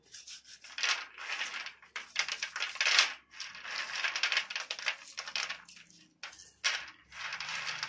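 Cooled roasted peanuts have their shells cracked and rubbed off by hand, a close, busy run of dry crackling and crunching in bursts with short pauses.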